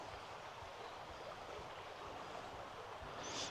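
The River Allen flows in a constant, fairly quiet rush of water, a steady broadband stream with no voices.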